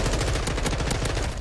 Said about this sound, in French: Oh, là, ça tire ici.